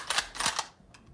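Shots from a 6.5 mm Mannlicher Carcano carbine rifle, fired in quick succession: a few sharp cracks close together over about a second, then a fainter one, heard alone.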